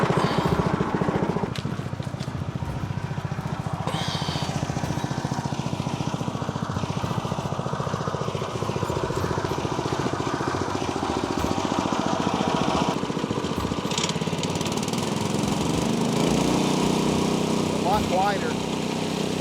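A small engine on a portable sawmill idles steadily as it warms up, giving a constant close loud chug with faint clicks. No voices.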